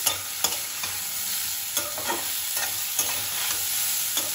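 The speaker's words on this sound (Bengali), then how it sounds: "বেগুনটা ভাজতে ভাজতে আমার সেদ্ধ হয়ে যাচ্ছে" Eggplant fries in a pan, a steady close sizzle punctuated by regular scraping stirs and clinks of a utensil against the pan, with no voices.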